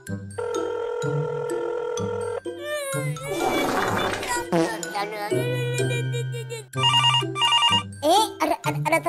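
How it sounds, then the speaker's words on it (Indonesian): A telephone rings in an animated Indonesian comedy, sounding as a series of bright electronic ring bursts mixed with cartoonish music-like tones and squeaky effects, loud and close. "Ada telepon."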